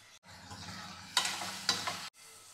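Lentils frying in a pan with ginger-garlic paste, salt and turmeric for a curry, a soft continuous sizzle with a few brisk stirring scrapes in the middle, no one talking.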